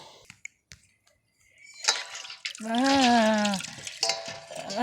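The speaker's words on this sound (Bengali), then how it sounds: "এই দেখো এই জল দিয়ে বাবুকে স্নান করাবো।" Warm water mixed with tulsi leaves is poured over a small deity idol during its bath, giving a short splash and trickle, while someone speaks close by.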